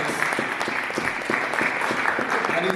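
An audience at a book launch applauds continuously, a dense, even patter of many hands clapping at moderate volume with no break.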